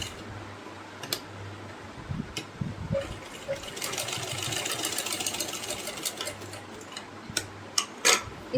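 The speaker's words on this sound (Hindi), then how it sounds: "पहले इस कपड़े को और इस इलास्टिक को साथ में सिल लेंगे।" Sewing machine stitching elastic onto a long strip of fabric for a layered baby frock, a quiet steady whirring run with a low hum, with soft clicks and taps while the work is handled.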